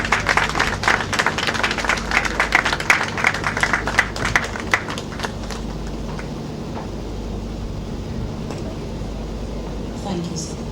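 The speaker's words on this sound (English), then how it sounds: "Please, a round of applause." An audience at a Lagos apartment commissioning ceremony claps for a company chairman, a dense burst of applause over the first five seconds that fades into quiet room noise.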